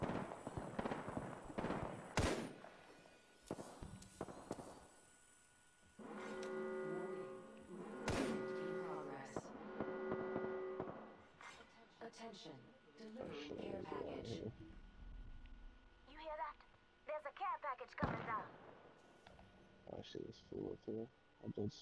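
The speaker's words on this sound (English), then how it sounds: "they're shooting right next to us" Nearby gunfire in the battle royale game Apex Legends: scattered sharp shots and short bursts, loud and close, mixed with in-game effects and players talking over them.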